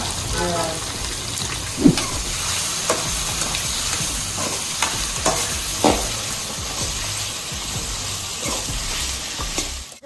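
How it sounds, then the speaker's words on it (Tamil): Capsicum sautéing in a pan for restaurant-style egg Manchurian, a steady close sizzle with repeated stirring scrapes and occasional sharp spatula knocks, under faint background talk. "அப்படியே அந்த குடமிளகாயும் போட்டு வதக்கலாம்"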